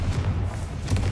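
A short, low thudding blast from the Confringo fire spell in a Harry Potter video game, a brief muffled boom that swells again near the end.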